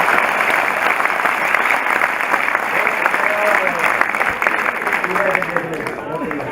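A crowd at a Haryanvi comedy poetry show breaks into loud, sustained applause, dense clapping with a few whoops rising over it, running steadily throughout and trailing off slightly at the end.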